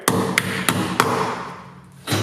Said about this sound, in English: Take the wheel weight hammer.